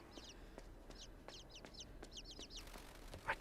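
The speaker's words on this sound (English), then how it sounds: "And the chirping of the birds in the next room." Birdsong from the next room in the video game INSIDE: repeated short, bright chirps in quick clusters, fairly faint and steady over a quiet low rumble, with no voices.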